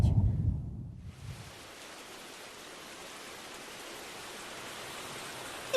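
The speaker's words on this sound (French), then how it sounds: "Il faisait beau et tout d'un coup, il pleut des cordes." Heavy rain pours down in a steady, dense hiss after a brief low rumble at the start, continuous and loud with no voices.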